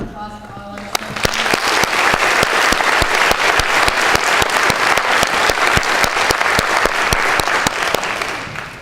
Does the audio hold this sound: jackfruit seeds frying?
no